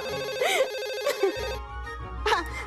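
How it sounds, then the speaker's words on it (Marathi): A phone ringtone plays loudly and close, a melodic electronic tune with repeating warbling notes. "फोन फोन बाबांचा फोन आला."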